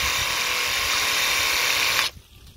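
A Graco Ultra Max handheld paint sprayer being cleaned by spraying straight out, a loud steady buzzing hiss that runs for about two seconds and then cuts off abruptly.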